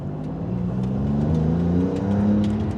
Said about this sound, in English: So we'll do one last acceleration for today here.